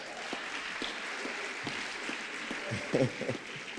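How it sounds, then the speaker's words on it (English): Applause at an employee gathering, a soft, distant patter of clapping from a small crowd with a few sharper handclaps and a muffled bump near the end. "Let's give that one a round of applause."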